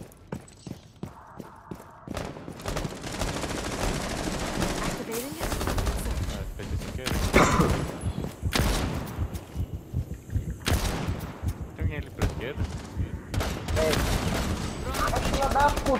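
Rapid bursts of video game automatic gunfire crackle in quick volleys, mixed with scattered single shots, all somewhat muffled and continuous over the length.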